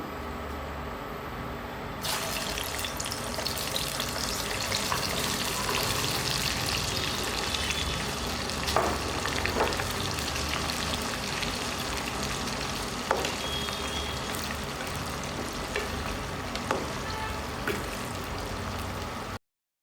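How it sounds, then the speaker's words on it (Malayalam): Sliced potatoes fry in hot oil for French fries, giving a dense, steady sizzle that starts suddenly and continues for nearly twenty seconds, with occasional pops and light clinks and no voices. "അപ്പം ഓയിൽ നല്ലപോലെ ചൂടായിട്ടുണ്ട്. നമുക്ക് പൊട്ടറ്റോ സ്ലൈസ് ചെയ്ത് നമുക്ക് ഇതിനകത്തോട്ടിടാം."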